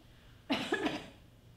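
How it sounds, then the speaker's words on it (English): A single close, dry cough made up of two or three quick bursts, standing alone against a quiet room during a stage performance. "I coughed, and there was a pause there."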